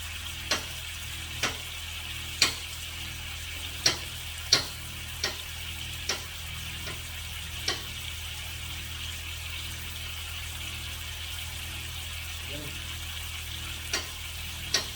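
Baby portabella mushrooms sizzle in a pan: a steady, soft frying hiss, broken by sharp pops and ticks every second or so, fairly quiet and alone.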